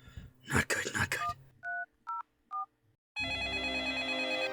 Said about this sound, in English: Is that a cell phone?